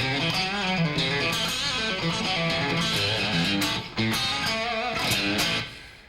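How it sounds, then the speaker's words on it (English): Twangy electric guitar playing a fast right-hand picking lick, with repeated doubled notes descending from A through G. Dense, continuous notes ring out alone, then fade at the end. "I use sort of a twangy kind of guitar sound"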